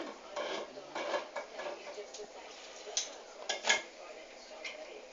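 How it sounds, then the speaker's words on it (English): A tin of tomatoes being opened in a home kitchen: a series of close metallic clicks, scrapes and small clatters, uneven and fairly faint, with bursts of sharper clinks toward the end. "then we open a tin of tomatoes which we want to chop"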